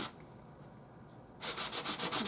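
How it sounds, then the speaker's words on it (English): After a quiet moment, a sanding block scrubs back and forth in quick, even strokes, close and loud. "Just going to sand that down real good."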